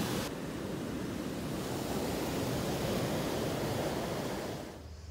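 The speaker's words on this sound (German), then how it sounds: "Und wir sind hier übrigens direkt am Strand" Sea waves wash steadily onto a beach in Crete, a close, continuous roar of surf mixed with wind rumble that holds evenly for about five seconds before easing slightly.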